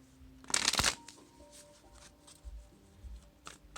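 A brief, crisp riffle of tarot cards being shuffled, followed by quiet soft shuffling and light handling sounds.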